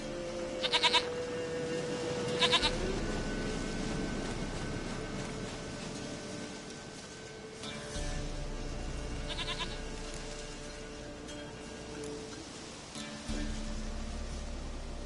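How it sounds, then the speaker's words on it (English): A goat bleats in The Witcher 3: Wild Hunt, two short, fairly faint bleats early on over a steady game ambience of wind and background noise, with no talk. "Goat of mine, dearest, sweetest goat."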